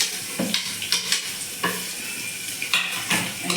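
Potatoes sauté in a pan for khichdi, a steady sizzle broken by repeated utensil clinks and scrapes against the metal as they are stirred, close and clear with no talking.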